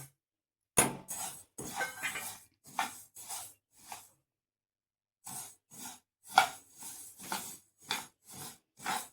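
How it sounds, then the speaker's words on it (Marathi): Sesame seeds being dry-roasted in a kadhai over a gas flame, heard as a series of short scraping, clinking stirs at close range, arriving in bursts separated by brief pauses. "तीळ खमंग असे भाजून घेऊया।"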